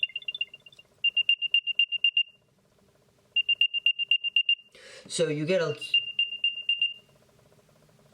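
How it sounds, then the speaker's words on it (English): An Apple AirTag plays its chime, clusters of rapid high beeps repeating in a few bursts, with a person speaking briefly in the middle. "cute little chime that beeps about 3 times, and it is pretty loud"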